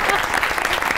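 Dense audience applause from a live comedy stage show, with steady continuous clapping filling the whole moment at close, loud level.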